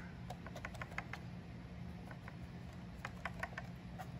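A fan inside a power-tool battery pack clicks as it hits something, faint light ticks in irregular clusters over a quiet hum.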